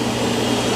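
A Roborock S8 robot vacuum and mop runs close by with a steady, loud broadband whir of motor and suction and no pauses or talk.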